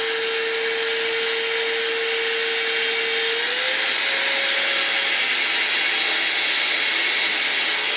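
Electric air duster with a nozzle probe pulling air out of a partly zipped bag: a steady loud whir runs throughout, its tone stepping slightly higher midway as the bag empties.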